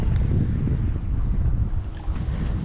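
Steady wind roars on open water around a small fishing boat in choppy spring conditions, a constant low rushing buffet against the microphone with no pauses.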